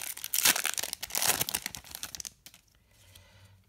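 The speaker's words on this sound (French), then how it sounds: "Et là on va ouvrir le dernier booster de la semaine." A Magic: The Gathering Ixalan booster pack is torn open, with loud crinkling and ripping foil for about two seconds before it drops to quiet rustling.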